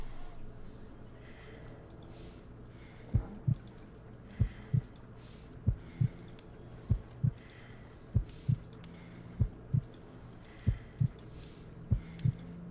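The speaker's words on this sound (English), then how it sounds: "I need to concentrate and count the heartbeats." A slow, steady heartbeat from the Sherlock Holmes: Crimes & Punishments video game, about a dozen evenly spaced low thumps at roughly 50 beats per minute. The thumps are weak and sound alone over a quiet background hum.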